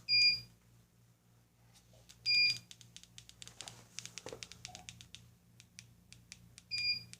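Ceiling fan (Fanimation Drone) emitting short high electronic beeps from a remote signal, three separated chirps spaced a couple of seconds apart, with light tapping and button clicks between them in a quiet room.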